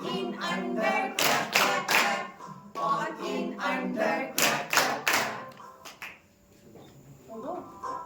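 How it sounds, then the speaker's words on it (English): Students in a classroom clap in rhythmic bursts along with a teacher during a chanted preposition lesson, sharp claps clustered in groups between stretches of close, lively talk and singing. "Please clap with us."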